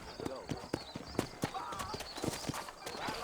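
Horse hooves clip-clop in a steady trotting rhythm on a trail in the Red Dead Redemption video game, close and distinct, with brief speech and a faint whinny mixed in.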